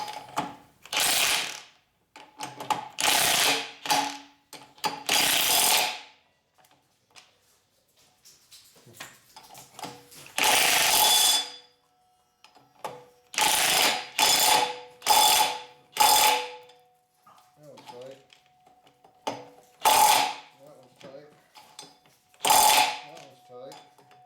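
Socket wrench ratcheting as bolts are tightened in a cross pattern during a top-end and transmission rebuild on a 2004 Harley FLHT Twin Cam touring motorcycle; repeated loud ratchet bursts with short pauses between them, close up.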